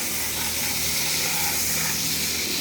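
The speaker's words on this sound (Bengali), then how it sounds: "আমার তেল হয়ে গেছে, চিংড়ি মাছটা ছেড়ে দিলাম।" Shrimp sizzling in hot oil in a pan, a steady loud hiss and crackle that runs unbroken throughout.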